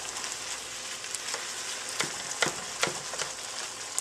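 Meat sauce with tomatoes and white wine bubbling and sizzling in a pan as browned bits are deglazed, a steady soft hiss with occasional louder pops and stirring scrapes, no voices.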